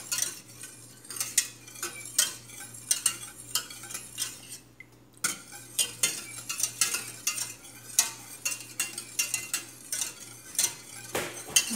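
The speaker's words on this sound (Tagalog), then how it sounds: "Haluin natin ng mabuti para hindi siya magbuo-buo." A spoon stirs a creamy, milky gulaman mixture in a pot, making repeated scraping clinks against the metal in an irregular rhythm, close and clear, with a brief pause midway and no talk.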